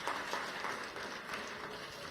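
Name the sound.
applause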